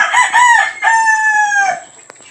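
A rooster crows on a backyard farm in one long, loud drawn-out call that ends in a trailing wail, with no speech over it.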